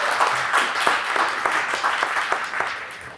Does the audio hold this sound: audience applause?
yes